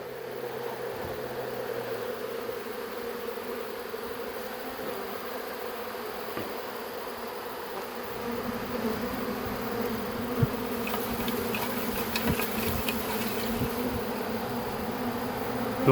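Swarm of honey bees dropping onto a person's head makes a dense, steady buzz that fills the air and swells slightly louder partway through, with occasional soft knocks and no talking.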